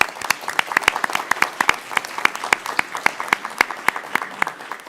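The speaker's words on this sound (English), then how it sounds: "How about a round of applause for the parents?" An audience at a school board meeting applauds for the parents, individual claps standing out sharply in an uneven, steady rhythm, fairly close and loud.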